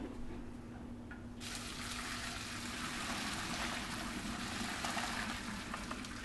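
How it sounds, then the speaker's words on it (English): Pot of cooked pasta for Greek pastitsio being strained in a kitchen sink, a quiet hum that gives way to a sudden, steady rush of pouring water splashing into the basin. "So we're going to head over to the school of pasta and strain out the water."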